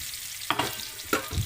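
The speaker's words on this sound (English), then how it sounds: "So now we have to dump our garlic, finely chopped garlic, and we just saute this." Finely chopped garlic sautéing in olive oil in a pan, a low sizzle with a couple of sharp stirring knocks, close and brief, with no talking.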